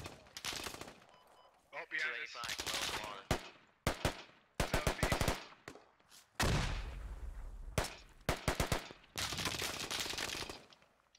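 Rapid bursts of machine gun and rifle fire in the Squad military shooter, loud, sharp repeated volleys with gaps between them, mixed with shouted voices of players.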